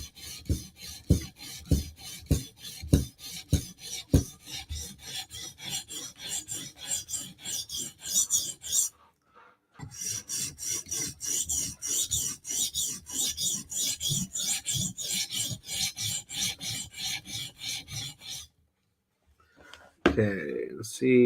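Spyderco Slysz Bowie knife blade drawn across a sharpening stone in steady rasping strokes, close and fairly loud, with two brief pauses and a short muffled bump near the end.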